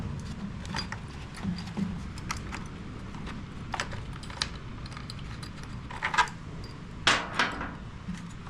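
A socket wrench ratchets on a nut of a Harbor Freight ETQ TG1200 generator that sat for years, giving quiet mechanical clicking and clatter close up, with a few sharper metallic knocks near the end.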